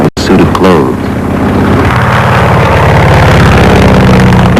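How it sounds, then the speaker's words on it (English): Aircraft engine droning loudly and continuously in flight, a dense steady mechanical roar with shifting tonal layers after a brief dropout at the start. "The engine sounds smoother than at the beginning of the flight."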